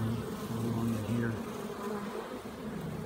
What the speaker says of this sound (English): normally you can see the bees fanning to show where the queen is